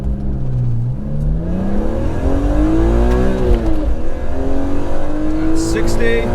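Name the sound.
rare BMW accelerating hard in a 0 to 60 test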